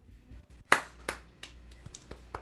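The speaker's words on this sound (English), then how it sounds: "We're doing the Zoom clap." A few scattered claps ring out, sharp and uneven, heard over a video call, with sparse single hits and no steady rhythm.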